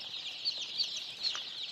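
Day-old layer chicken chicks cheep in a dense chorus of high, rapid peeps, close by and continuous, with a few louder chirps standing out from the flock.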